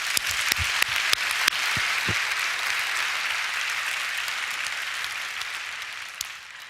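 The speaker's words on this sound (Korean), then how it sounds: "박수 한번 해주세요" Applause from a church congregation, a dense burst of clapping with a few sharp close claps at the start, then sustained and gradually thinning over about seven seconds.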